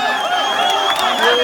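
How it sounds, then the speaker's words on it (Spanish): At a freestyle rap battle, a crowd cheers and claps for the winner in a brief, dense burst of whoops and applause, with voices shouting over it. "Fuerte aplauso a Cita."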